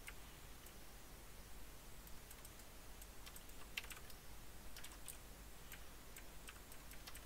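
Soft, faint keystrokes patter on a computer keyboard during a coding session, coming in sparse, irregular taps over a quiet background hiss.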